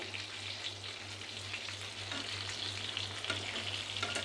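Fish fries slowly in a pan until crisp, giving a steady, soft sizzle and crackle with gentle popping throughout, close and alone without any talking.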